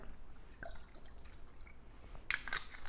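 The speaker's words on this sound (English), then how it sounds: "we're going to add a little bit of this red wine vinegar" Red wine vinegar is splashed onto a watermelon salad, giving soft drips and wet patters that end in a brief, brighter splash, quiet and close.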